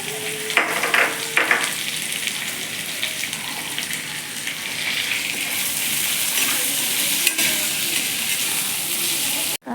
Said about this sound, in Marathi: कांदा परतलेला आहे